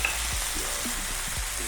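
Chicken gizzards stir-frying in a pan with soy sauce and salt, a steady close sizzle with a few soft stirring scrapes and taps, no voices.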